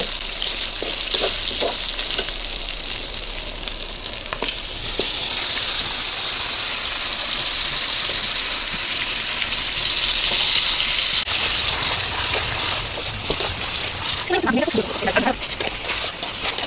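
Chicken fries in a pan with ginger, garlic and onion for a biryani, a loud steady sizzle and hiss with stirring clatter, growing more bubbly near the end.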